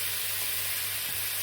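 Kidney frying in a heavy pan in its own released liquid, a soft steady sizzle with a low hum beneath, fairly quiet and continuous throughout.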